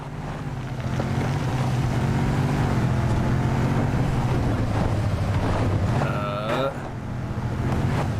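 Car driving in the video game Fallout New Vegas, a steady loud engine hum with rushing wind-like noise throughout, a brief rising whine near the end, with someone speaking over it.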